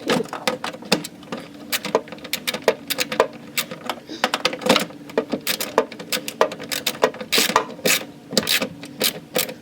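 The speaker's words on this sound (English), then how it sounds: "Now I have to ratchet though." A ratchet wrench clicks in rapid bursts during a lawn mower repair, with irregular metallic ratcheting and rattling close by, pausing and resuming throughout.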